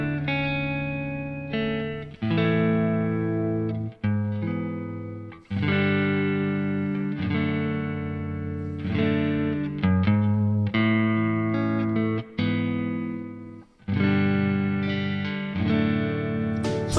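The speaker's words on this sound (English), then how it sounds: "Here's that Strat. Obviously very diamondy, a little bit of reverb on it." A Fender Stratocaster electric guitar with a light touch of reverb plays bright, chiming chords and notes, each ringing out with sustain and short gaps between phrases, up close and alone.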